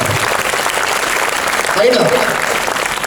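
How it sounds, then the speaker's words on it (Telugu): An audience of students clapping at a motivational talk, dense, steady applause filling the hall, close and loud, without any speech over it. "మనందరం గట్టి క్లాప్స్ రావాల్సింది"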